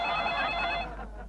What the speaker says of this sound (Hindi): फिर से फोन आया।